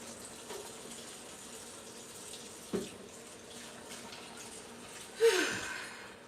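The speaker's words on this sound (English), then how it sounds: "Now I gotta go wash my hands." Faint water runs from a tap as hands are washed. The soft, steady trickle is broken by two brief, louder splashes, and no one speaks.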